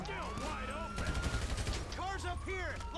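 Guns fire in bursts during a police chase after a GTA 5 bank robbery. The shots come in a quick volley mid-clip, and sirens and voices sound around them.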